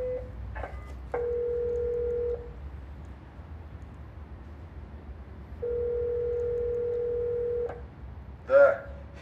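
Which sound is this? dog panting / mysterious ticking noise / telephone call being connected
telephone call being connected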